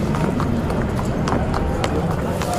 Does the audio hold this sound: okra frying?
no